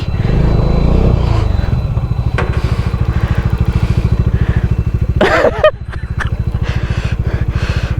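A vehicle engine runs steadily with a chugging, rhythmic low throb while stuck in mud on a rainy off-road trail near Sakleshpura, loud and close, with a brief sharp burst of other noise midway.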